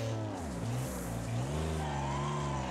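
Race car engines roar and shift pitch in a Wreckfest circuit race on Xbox Series X, sustained loud revving with tire squeal as a car gets spun around after a hit to its tail end.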